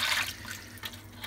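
Water from the whirlpool outlet of a dual-coil immersion chiller with a whirlpool arm rushes out quickly in a steady, close hiss, strongest at the start.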